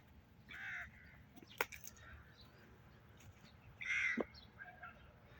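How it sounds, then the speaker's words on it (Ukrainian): Two faint crow caws sound a few seconds apart in a quiet outdoor setting, with a soft click or two between them. "Ворони каркають осінь."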